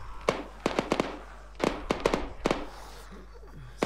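Gunfire in the video game Arma 3 sounds as a series of sharp distant shots, about ten cracks in uneven clusters over a low background hum, with brief talk around them.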